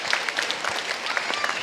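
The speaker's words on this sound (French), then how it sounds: "j'aimerais aimer que tout le monde s'applaudisse là" A TV studio audience on a live set applauds, a quick, dense patter of many hands clapping close by for a short burst, fairly soft overall and with no voices over it.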